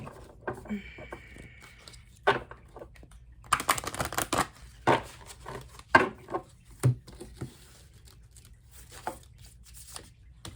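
Large tarot reading cards being shuffled by hand, heard as irregular papery riffles and soft patting bursts close by, with quiet gaps between handfuls.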